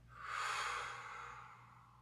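A slow, soft exhale of breath during a core exercise after ovarian cyst surgery, a faint airy whoosh that swells and then gradually fades, heard alone over a quiet low hum.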